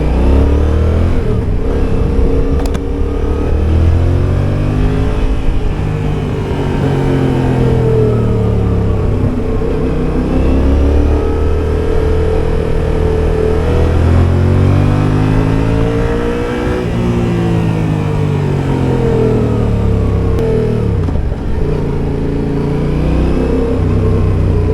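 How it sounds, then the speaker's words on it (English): Loud, steady exhaust drone of a Yamaha XSR700 motorcycle, rising and falling in pitch as it accelerates and eases off while riding, continuous and close throughout. "the exhaust note is loud enough to at least get everybody's attention there"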